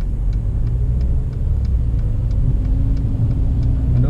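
A Mercedes-Benz GLA 250 4Matic SUV engine runs as a steady, low rumble heard from inside the cabin while driving, with a faint regular ticking above it.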